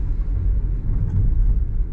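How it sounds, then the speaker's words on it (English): Cars speeding along a road across the Lotus Bridge border crossing in Macau, a steady close low rumble of traffic heard from inside a moving car, with no talking. "Cars kind of fly through there too."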